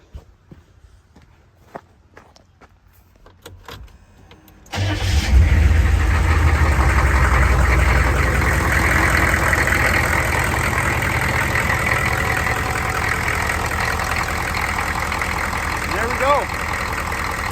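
A GM 6.5L diesel, just fitted with a new injection pump and a resealed valve cover, cranks and starts after a few quiet clicks and footsteps, then settles into a loud, even, close idle.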